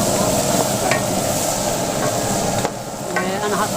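Liver and onion fry in a pan over a kerosene stove, a loud continuous sizzle with the steady roar of the burner beneath and a few metallic scrapes of stirring.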